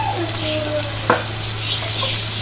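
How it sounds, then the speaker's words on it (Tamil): Cooking oil, about four ladlefuls, heats in a pan before fish is fried for a Tamil fish curry, giving a close, steady sizzle with a low hum and one brief clink. "நல்லா எண்ணெய் காயட்டும்."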